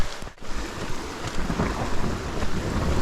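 Rain falls steadily during a hike through a flood zone near waterfalls, making a dense, loud outdoor hiss and patter with low rumbling underneath, and no one speaks.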